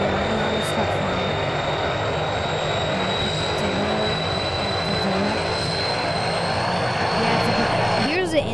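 A propeller airplane engine drones steadily while flying in the driving game BeamNG.drive, a loud continuous hum with a faint high whine throughout, ending with a small clatter near the close.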